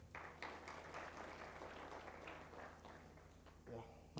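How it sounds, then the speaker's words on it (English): Audience applause fills a student engagement event for aspiring actuaries in Kenya, a dense steady patter of clapping hands that continues for several seconds before a voice cuts in near the end. "A round of applause for them."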